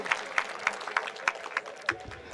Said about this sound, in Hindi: सदर साहब के लिए तालियां बजा दीजिए